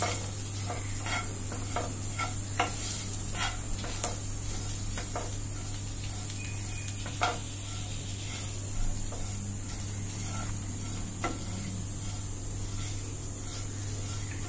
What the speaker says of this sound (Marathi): ह्याच्यामध्ये कांदा जास्त काही शिजला नाही पाहिजे, फक्त तो तेलामध्ये नरम झाला पाहिजे